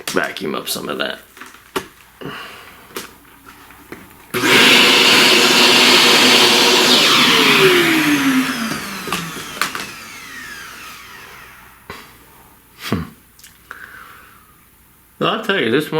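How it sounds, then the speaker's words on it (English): A vacuum cleaner sucks up pastel dust from a drawing surface, a loud steady whooshing drone for several seconds with a falling whine as it winds down, framed by talk before and after. "Vacuum up some of that."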